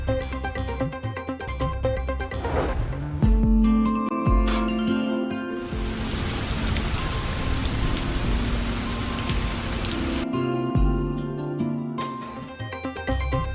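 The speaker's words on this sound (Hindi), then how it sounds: "गुलबर्ग और फैसल टाउन समेत कई इलाकों में मूसलाधार बारिश।" Heavy downpour over Lahore, a dense steady hiss of rain pouring for several seconds, partly under a bed of music, loud and continuous with no voices.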